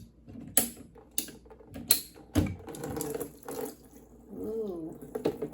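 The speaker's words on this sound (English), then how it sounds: "And drain out any water that's left." Leftover water trickles and splashes from a cut plumbing pipe during a toilet and shower valve installation, broken by sharp metallic clicks and knocks from the fittings, close and fairly quiet.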